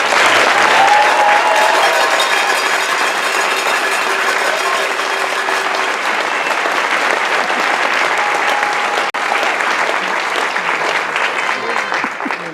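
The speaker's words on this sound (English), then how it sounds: "big round of applause for" A long, steady round of applause from the audience at a December commencement ceremony on a college's west campus, honoring the graduating class. The clapping stays full and even for several seconds, with a faint tonal sound in the background.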